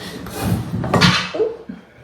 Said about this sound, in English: just knock my stick over